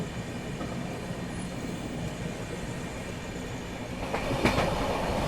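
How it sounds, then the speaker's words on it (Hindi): A Humsafar Express train runs through Chalisgaon Junction without stopping, a steady close rolling rumble with faint clickety-clack of wheels over rail joints and a brief louder clatter near the end. "तो फिलहाल अपनी ट्रेन स्किप कर रही है चालीसगांव जंक्शन स्टेशन को।"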